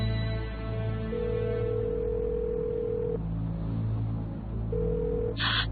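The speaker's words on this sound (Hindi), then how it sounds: "कोई भी फोन नहीं उठा रहा है।" A phone call goes unanswered, with long sustained electronic ringback tones pulsing over a dense, droning background hum, ending with a brief brighter chirp near the end.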